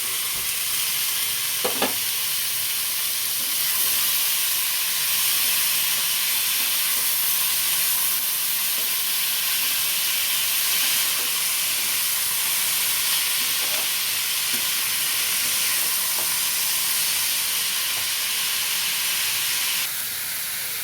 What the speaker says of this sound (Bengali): দেখো আমার সবজিগুলো আমি নেড়ে নেড়ে ভেজে নিয়েছি